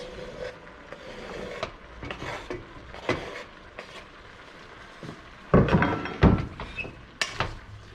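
A pot of chili with chopped Serrano jalapeno and Roma tomatoes in oil gets stirred: scattered wooden scrapes and light knocks, growing louder and busier toward the end, with no voices.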